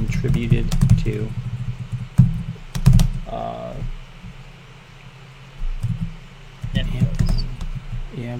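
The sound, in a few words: typing on a computer keyboard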